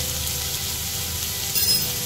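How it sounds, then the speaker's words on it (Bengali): Vegetables frying in a pan with turmeric and salt, a steady close sizzle with faint scraping, no voices. "প্রত্যেকটা সবজি একটু ভালো করে ভেজে নিতে হবে যতক্ষণ না পর্যন্ত আর কি নরম হয়ে যায়"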